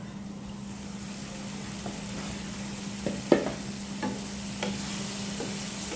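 Chopped chicken liver and chicken breast are stirred in a pan, with a few faint scrapes and clinks of the utensil over a steady low sizzle and hum.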